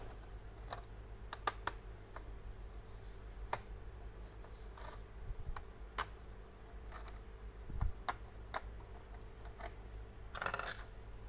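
Screws are being removed from an HP Notebook 15 laptop during disassembly, giving quiet, scattered small clicks and ticks of the screwdriver at a close range, with no talk.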